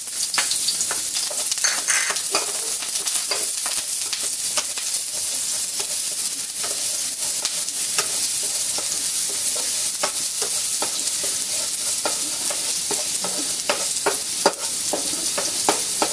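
Chopped garlic and onion sizzle steadily in hot oil in a pan, a continuous frying hiss with scattered spatter pops and stirring scrapes throughout, close and fairly loud with no talking.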